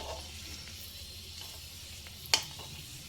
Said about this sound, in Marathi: कुठलीही तळण्याची वस्तू जर थोडी मोठ्या साईजची असेल तर त्याला असं वरून झाऱ्याने तुम्ही तेल जर दिलं तर ती व्यवस्थित सगळ्या बाजूने शिजते